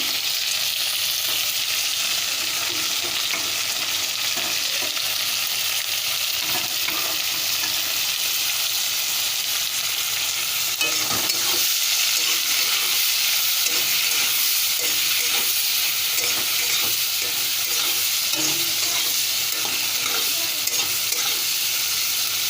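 Tomatoes cooking down in a pan for a mushroom curry, a continuous hissing sizzle with steady stirring scrapes throughout, close and uninterrupted, with no one speaking.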